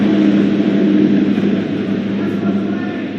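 Loud airplane roaring overhead outdoors, a dense low rumble and hiss that swells at first and then slowly eases while staying strong throughout.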